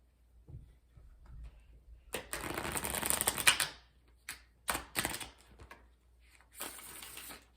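Spirit Animal Oracle cards are shuffled by hand in a quiet room, a long riffling burst followed by several short flicks and a final brisk run of cards, with no talking.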